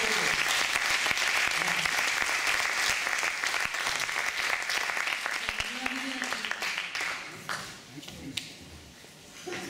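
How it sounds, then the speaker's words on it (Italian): Dense, sustained audience applause after a film screening, loud and continuous at first before thinning slightly toward the end, with faint voices mixed in. "Un applauso per voi."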